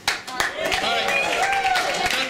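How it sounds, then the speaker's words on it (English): Comedy club audience in Munich cheering and clapping in a short, loud burst of mixed voices and hand claps that carries on steadily to the end. "Give us a cheer."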